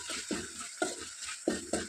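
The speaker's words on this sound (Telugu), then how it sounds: "పసుపు తాలింపులో ఒకసారి ఇలా కలుపుకోవాలి." A spoon stirs turmeric into softened onion and tomato tempering in a pan, giving five or six quick scraping strokes over a soft sizzle, close and alone.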